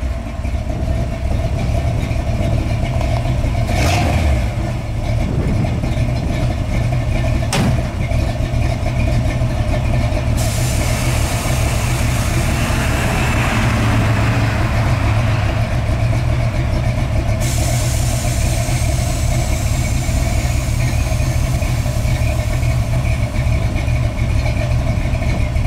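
A 1972 GMC Jimmy truck runs at a steady, loud idle with its air suspension lowered all the way, the engine drone continuous throughout with a brief hiss in the middle.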